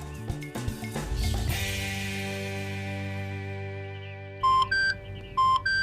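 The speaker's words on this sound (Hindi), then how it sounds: "मैं फोन करती हूँ उसे।" Electronic tones and beeps, with a few short dialing-style tones near the end following a fading chime.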